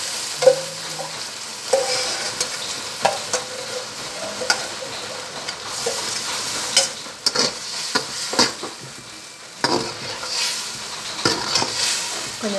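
Ground pulicha keerai greens are stirred into sautéed onions in a pan, with steady sizzling and frying broken by repeated scraping strokes of a spoon against the metal.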